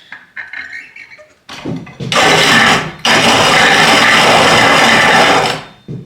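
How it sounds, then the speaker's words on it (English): An old hand-cranked stone grain mill set to grind coarsely, giving a loud close gritty grinding rasp in two long sustained bursts after a few short scrapes. "You can adjust the grind, and I like to grind it."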